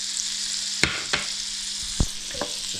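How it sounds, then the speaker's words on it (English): A large knob of butter sizzles and crackles steadily in a hot frying pan after bacon, a bright continuous hiss broken by a few sharp clinks and scrapes. "going in with a massive knob of butter. Get that heating up, melting pretty quick."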